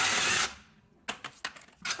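Quick bursts of ratchet clicks on the rear shock absorber bolt of a 2014-2024 Mercedes-Benz Vito (W447) van: four short, close spurts after a brief hiss, with no one talking.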